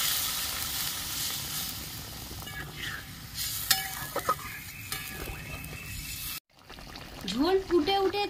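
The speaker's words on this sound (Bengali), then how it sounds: "এবার আমি পরিমাণ মতো জল দিয়ে দিচ্ছি।" Water poured into spiced potato masala frying in a pan for a Bengali potol-prawn curry, the steady sizzle and stirring breaking off abruptly before a fresh burst of hissing as the liquid hits the hot oil.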